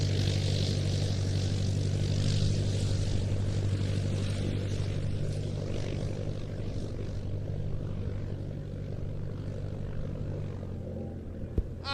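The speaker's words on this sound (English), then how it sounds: "coming in from your left, the de Havilland Canada Beaver." A de Havilland Canada Beaver propeller aircraft drones steadily and loudly overhead at an airshow, a continuous engine hum with low tonal harmonics that holds throughout and eases slightly toward the end.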